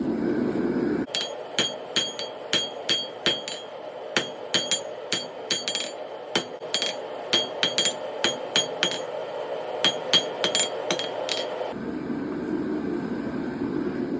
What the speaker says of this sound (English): the first step to forging out this dragon's head is going to be to isolate material for the snout of the dragon